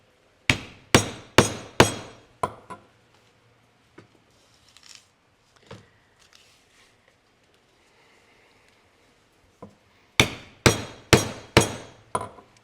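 A rivet is hammered into a leather belt in two bursts of sharp, evenly spaced metallic taps, about five at the start and five at the end, with quiet handling noises in between.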